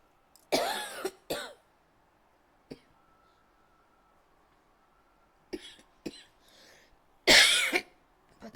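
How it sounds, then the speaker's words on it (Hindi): A teacher in a classroom coughs in several separate harsh bursts, a pair near the start and more toward the end, with quiet pauses in between. "पता नहीं मुझे क्यों डेंजर वाली खांसी आ रही है।"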